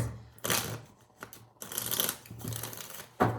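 Cards being shuffled close up in several quick riffling bursts separated by short pauses, over a faint hum.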